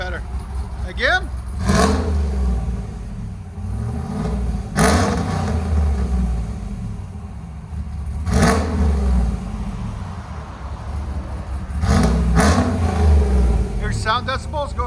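With its exhaust valves open, a cammed 6.2L V8 GMC Sierra fitted with headers blips its throttle four times in loud, close revs, settling into a deep idle between them while voices chat underneath.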